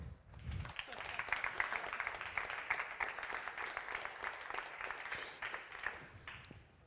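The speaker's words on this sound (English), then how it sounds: "let's give a round of applause to King of Plumbers from Polymer Labs, Bo Du." A conference audience applauds for a speaker in a sustained burst of clapping, heard from a distance in a large hall.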